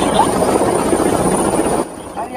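A helicopter flies close by, its dense, choppy rotor drone loud and steady before dropping off sharply near the end, with voices talking over it.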